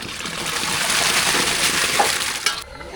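Dal, tomato and onion go into a pot of hot water for sambar, making a continuous close wash of bubbling and hiss with a small splash just before it quiets.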